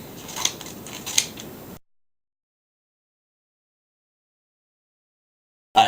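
Scissors snip through paper as shapes are cut out, a couple of short crisp cuts close by in a quiet room, followed by a long silence.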